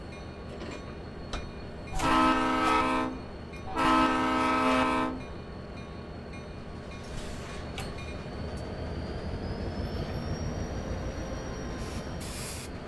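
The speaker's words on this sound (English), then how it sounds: "Then we're going to couple up to" In the Train Simulator game, a Union Pacific GP30 diesel locomotive sounds two long, loud horn blasts over a rumbling idling engine, followed by coupling clanks and a thin rising whine as the train settles.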